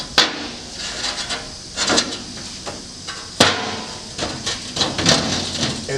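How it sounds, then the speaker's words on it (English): A loose tray drops into place on a truck bed during bed assembly with a sharp metallic knock. Scattered bumps and clunks of handling follow, close and fairly loud, with no talk. "so you can drop in the tray."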